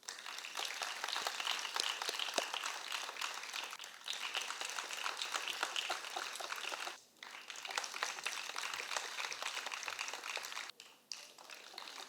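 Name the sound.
audience applause after a sitar concert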